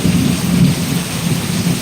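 Heavy monsoon downpour pounds steadily in a loud, continuous roar, with deep thunder rumbling underneath throughout and no voices.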